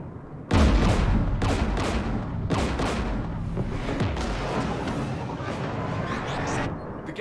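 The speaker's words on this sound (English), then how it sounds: "We're taking fire." Heavy gunfire in Mass Effect 3 combat near a Geth jamming tower with anti-aircraft guns: sustained dense bursts and booms that start abruptly and stay loud and continuous, with no voices over them.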